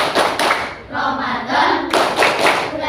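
Rhythmic group clapping by children in a classroom learning the 'Tepuk Ramadan' clap game, with repeated bursts of hand claps mixed with voices chanting along.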